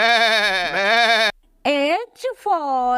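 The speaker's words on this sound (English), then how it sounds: "G for goat." Goat bleating in a children's alphabet song, several long wavering bleats separated by short gaps, loud and close with no talking over them.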